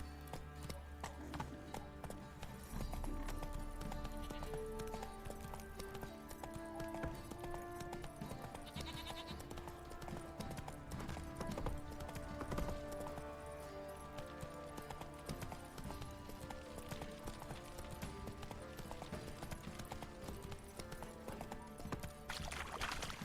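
Horse hooves clip-clop in a steady rhythm over a musical background in the video game The Witcher 3: Wild Hunt, with occasional animal bleats.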